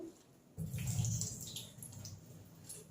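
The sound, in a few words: washing chickpeas in water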